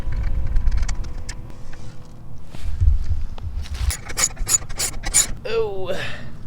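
Nut and washer being tightened onto bolt hardware of a backyard swing set, giving close rasping, scraping turns and rubbing metal clicks, then a brief squeaky creak near the end, with no talk.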